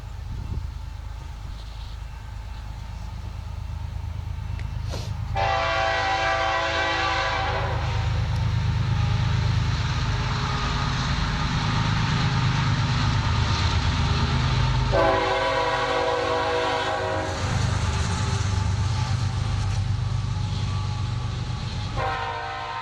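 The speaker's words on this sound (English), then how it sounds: "Okay, my train is gone." A train rumbles past for over twenty seconds, its steady low roar swelling and fading, while its horn sounds in three long blasts, the first two loud and sustained, the last cut short at the end.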